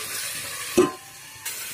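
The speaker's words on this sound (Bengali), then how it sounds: "এগুলোকে আমি 5 মিনিটের মতন ভেজে নেব" Chela fish frying in a pan for a Bengali fish curry, a steady soft sizzle with a brief louder clatter near the middle, no voices.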